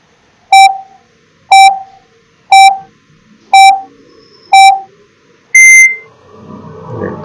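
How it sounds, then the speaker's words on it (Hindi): A quiz countdown timer sounds five evenly spaced, loud electronic beeps about a second apart, followed by a longer, higher final tone before a burst of noise. "चलिए टाइमर ऑन करते हैं।"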